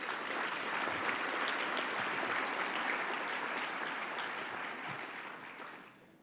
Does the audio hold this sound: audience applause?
yes